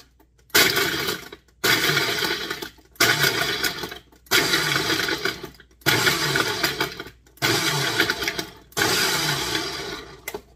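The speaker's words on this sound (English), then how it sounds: "You're going to want to shred up the ice first a little bit. Just pop that down on there and we'll give her a good pulse." A blender crushing ice in seven loud pulsed bursts, each about a second long and separated by short silent gaps, with a harsh, grinding, broadband roar and no talking.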